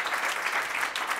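Audience applause at a Fondation Korian care-sector stage event, a dense steady wash of many hands clapping throughout, fairly loud and alone, with no voices over it.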